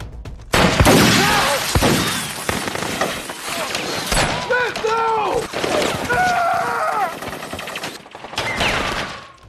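Bursts of gunfire crackle through a chaotic battle scene, with shouting voices and whooshing noise layered over continuous loud action.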